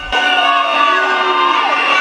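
Crowd at a graduation ceremony in Lubumbashi cheering and shouting loudly, a steady, dense roar of many voices with whoops throughout, close and continuous.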